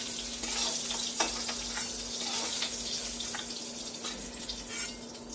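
Pieces of teasel gourd (kakrol) fry in hot oil in a wok, a loud continuous sizzle with occasional scraping stirs and clinks as pieces are lifted out, no talking.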